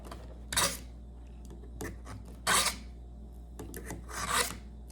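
A pair of dull scissors being sharpened, the blades drawn along in three distinct raspy filing strokes with short scraping rubs between them, close and alone.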